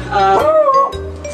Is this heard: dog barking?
yes